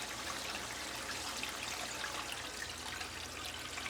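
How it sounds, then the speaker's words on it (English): A water pump at full power pushes a steady flow through a gold paydirt sluice, producing a continuous, even rush and trickle of water that stays fairly faint and unchanging throughout, with no voices. "now I can run the pump full power without it blasting all the material and water out the end"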